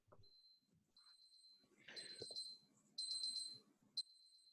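A timer alarm goes off during an online talk, its high electronic beeps repeating in short bursts amid faint background noise and clatter, fairly quiet overall.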